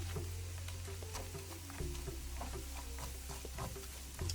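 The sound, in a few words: fresh turmeric roasting in ghee on low flame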